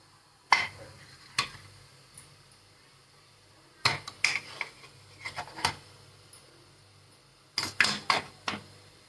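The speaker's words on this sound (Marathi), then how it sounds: "त्याच्यामध्ये ना इडलीचं स्टँड ठेवते आणि याच्यामध्ये ना ग्लास आता ठेवून द्यायचे असे" Glasses set down one after another inside an idli steamer pot, producing clusters of sharp metallic clinks and knocks separated by quiet pauses, close by and fairly crisp.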